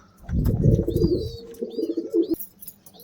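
A domestic pigeon coos close by, a low throaty rolling call repeated a few times, with faint chirps and a brief rustle near the end.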